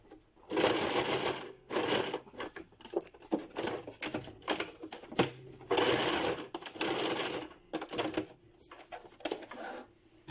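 A sewing machine stitches bias binding onto a fabric face mask, running in several loud bursts of rapid needle clatter separated by short pauses.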